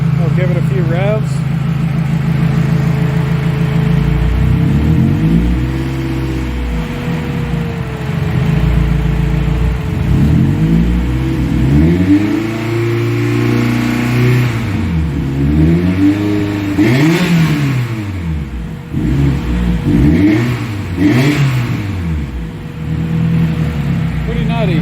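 A turbocharged 500 whp Mazda Miata engine is revved repeatedly, the exhaust rising and falling in several loud, throaty bursts between idle pauses.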